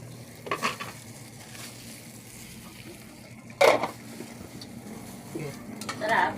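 Food bubbling in a pot while being stirred, with a few scattered scrapes and clinks of a utensil against the pot over a low, faint simmering background.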